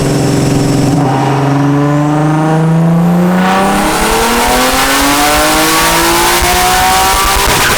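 An LS1-swapped Nissan 300ZX Z32 revs loudly up toward its rev limiter, the engine note climbing steadily in pitch from a low rumble to a high, buzzing roar that holds near the top.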